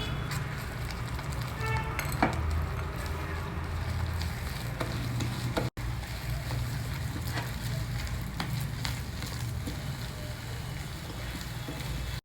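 Processed rice flour stirred into boiling water in a pot for ammini kozhakattai: a steady, close hiss of bubbling water with repeated scraping strokes and a few sharp knocks against the pot.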